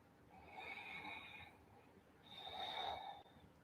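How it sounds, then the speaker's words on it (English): Deep, audible breathing in and out through the nose during a vinyasa flow yoga session: two drawn-out, airy nasal breaths separated by a short pause, fairly quiet and close. "Deep breathing with sound in and out through the nose."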